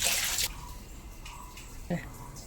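Fish gills are rinsed in water, a brief loud splash and rush of running water at the start followed by quieter sloshing and drips, close by.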